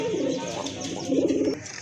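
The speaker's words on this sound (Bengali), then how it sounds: "এক জোড়া রেসার কবুতর" Soft, low racing pigeon coos in two rolling bursts, close by, with faint background chatter at a pigeon market.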